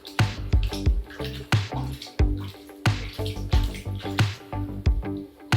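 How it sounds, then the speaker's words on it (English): A moss ball is dunked and washed in water, giving rhythmic sloshing and splashing with dripping between strokes, close and fairly loud, repeating about every half second with no voices. "So you can just put it all the way down in the water and wash it down like this."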